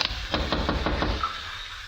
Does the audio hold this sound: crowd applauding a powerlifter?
no